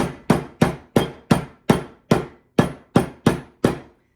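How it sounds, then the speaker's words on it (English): A meat mallet strikes peanuts about a dozen times in a steady, even rhythm, each sharp thud close and loud with a brief crunchy decay. "I'm just going to take my meat mallet"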